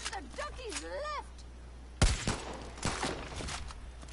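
A voice vocalizes, then a sudden loud burst of gunfire in Far Cry: New Dawn, followed by a few scattered shots and rumbling echoes.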